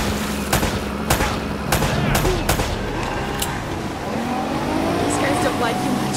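Gunfire in the video game Uncharted: Drake's Fortune: a series of sharp, separate shots crack at irregular intervals, mostly in the first half, over a steady rumble of background noise and engine-like drone, with people talking.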